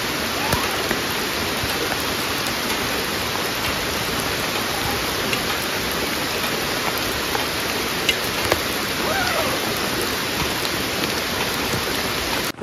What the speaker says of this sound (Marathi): पाऊस चालूच आहे जोरदार